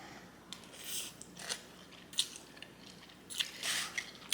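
Close, quiet mouth sounds of someone chewing Korean glass noodle japchae with banchan side dishes, with soft irregular bites, squishes and small crunches scattered over a faint background.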